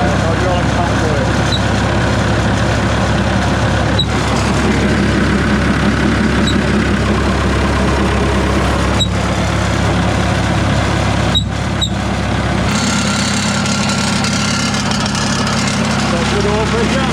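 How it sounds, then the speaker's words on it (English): A large wood chipper's engine runs steadily while its hydraulic pump works, a loud continuous low rumble with occasional clunks and a shift in tone near the end. "So the hydraulic pump works then."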